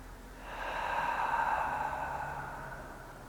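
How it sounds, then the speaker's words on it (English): A single slow, audible breath is drawn in and let out during a yoga exercise, swelling and fading over about three seconds, close and soft with no talking. "Inhaling, and then exhale."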